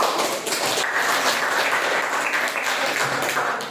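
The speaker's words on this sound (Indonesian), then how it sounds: "Oke, kasih tepuk tangan." Junior high school students clapping in a classroom during an Islamic religious education lesson, a dense, steady burst of many hands lasting a few seconds at moderate loudness.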